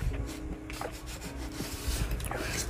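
Paper being rubbed down along a glued envelope fold with a burnishing tool, a steady close scraping friction that repeats in short strokes for a few seconds, no voices.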